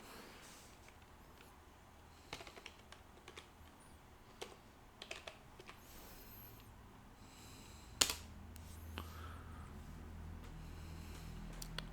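A password is typed on a computer keyboard while setting up a remote TeamViewer session on a new Windows PC, scattered close key clicks in irregular bursts over quiet room hiss, no talking.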